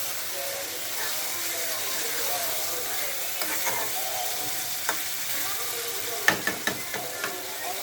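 Broiler chicken meat for biryani sizzles and fries in a pan, a steady broadband hiss with a few sharp scraping clicks of stirring near the end, close and continuous.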